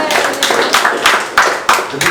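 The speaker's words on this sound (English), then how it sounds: "Let's actually give it up for the crowd." A small comedy-show crowd in a basement claps loudly and briefly, a close, uneven patter of hands with a few sharper claps standing out.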